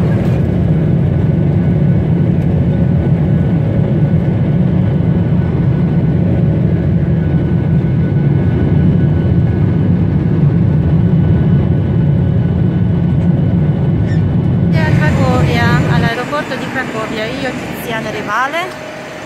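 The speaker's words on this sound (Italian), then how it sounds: "stiamo aspettando Renato quando scende dall'aereo" Loud, steady low engine roar of an airplane at an airport, continuous and close for most of the stretch before cutting off near the end, when a voice comes in over a thinner background.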